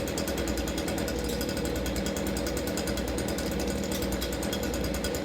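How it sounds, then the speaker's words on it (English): A leaf blower barely idling fills the space with a continuous dense, rough motor roar, steady and unbroken throughout, with no voices. "the leaf blower is barely at an idle, causing the beads not to fly very fast"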